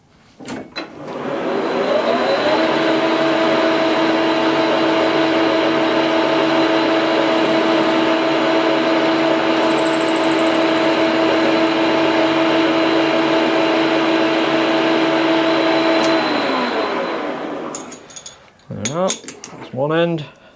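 A lathe machining a slide block for a 7 1/4 inch steam locomotive build runs with a steady, loud, tonal whine and hum for about seventeen seconds, then winds down, followed by a few brief knocks and clatters.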